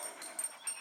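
Neighbor's loose dog giving a few short, close yips and whines in quick succession, with no talking over it.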